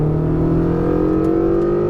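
Ferrari 488 GTB driving at speed on the Las Vegas Motor Speedway track, a steady engine drone with a smoothly rising pitch as it pulls, heard from inside the car with no talking.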